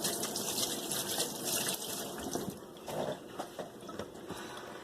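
Tap water runs continuously over hands being rinsed of powdered sugar in a home kitchen, a soft splashing gush with uneven bursts, fairly faint and heard alone.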